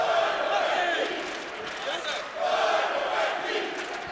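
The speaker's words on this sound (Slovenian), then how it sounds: "Publika navija za našeg Veljka" Arena crowd at a 2023 MMA championship bout roars and chants before the match, a dense continuous wall of cheering voices with two loud surges.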